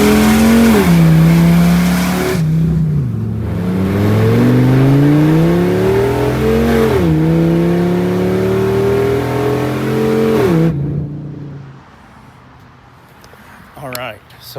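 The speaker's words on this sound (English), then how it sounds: "maybe one more cold start with the open headers" A Viper truck's engine with open headers cold-starts and revs hard, loud rising and falling roars repeated several times, the engine then dropping away toward the end.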